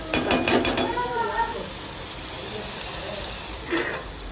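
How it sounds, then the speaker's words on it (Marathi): A spoon clinks against a pot of cooking khichdi in a quick run of bright taps, then strikes once more a few seconds later, all over a soft, steady sizzle. "परत 2 वेळा चमचा वाजवा आणि झाकण ठेवून द्या."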